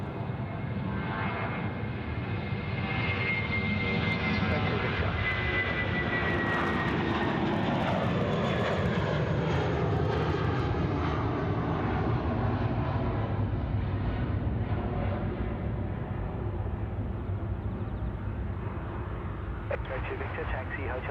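An Airbus A320 jet departs Sydney Airport with a loud, sustained engine roar that swells and shifts in pitch across the whole stretch, staying close and powerful, with voices talking over it.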